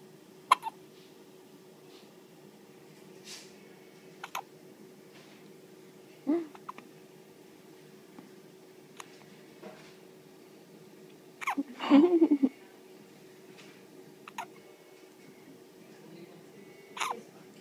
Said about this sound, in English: You get the hiccups, huh?